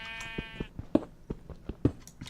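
Sheep in the Minecraft video game bleat repeatedly in short, fairly close calls, several overlapping bursts spaced unevenly across the moment, over soft game ambience with no talk.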